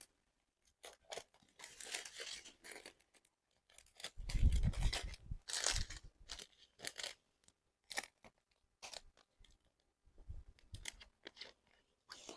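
Scissors cutting open small plastic diamond painting drill bags: scattered faint snips and crinkles, with a louder cluster of cutting and rustling in the middle, close and quiet.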